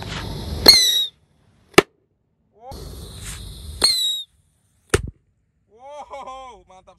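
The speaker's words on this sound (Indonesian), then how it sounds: "Jadi ini mercon roket dari yang terkecil sampai yang paling besar." A small rocket firecracker set off buried in the ground bursts with loud, sharp cracks, two heavy bangs separated by whistling fizz and crackling, then a thinner squeaky whistle trailing off at the end.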